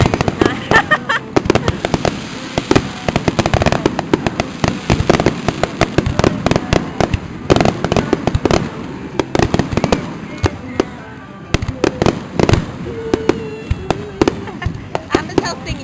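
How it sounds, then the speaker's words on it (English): Summer fireworks burst in a dense, irregular barrage of loud pops and cracks across the whole stretch, with people talking and singing nearby throughout. "This is a 3-minute video of fireworks."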